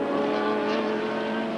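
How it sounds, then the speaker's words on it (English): Cosworth-engined sports racing car on track at Lakeside Circuit in a 1983 Australian Sportscar Championship race, a sustained high engine whine held steady at moderate distance, with no voices over it. "just listen to the sound of that beautiful Cosworth engine of Romano's"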